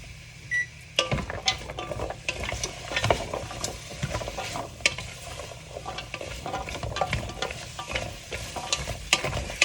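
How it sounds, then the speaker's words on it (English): Vegetables sizzling in hot oil while being stirred for chicken tortilla soup, a close crackling fry with frequent scraping stir strokes and a short beep near the start. "Again, you're hearing that sizzle."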